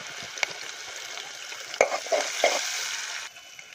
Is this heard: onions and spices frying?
yes